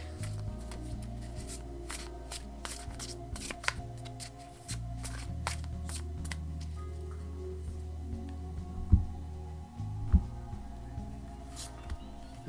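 An oracle card deck is shuffled by hand nearby, giving a steady soft riffling and flicking of cards that goes on without a break, with a couple of sharper snaps near the end.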